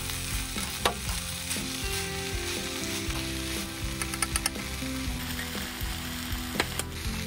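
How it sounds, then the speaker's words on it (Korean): Red chili powder stir-fried with bracken and taro stems for yukgaejang, a steady close sizzle with scattered scraping and clacks of the utensil against the pan, no talking. "고춧가루를 넣어 볶아서 고사리와 토란대의 매운맛을 입히고 고춧가루의 풋내를 날려주는 겁니다"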